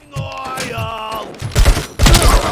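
Gunfire in the video game RoboCop: Rogue City: loud, close bursts of rapid shots in two dense clusters, layered over a sustained tonal hum and a brief bit of talk.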